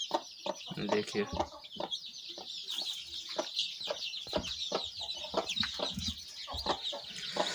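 A champion rooster clucks repeatedly and close by, its sharp calls mixed with other farm fowl sounds in a steady busy chorus, while someone talks briefly.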